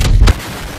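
A gravity cannon launch in the video game Apex Legends: one loud, deep booming burst that dies away in under half a second, leaving steady game background noise.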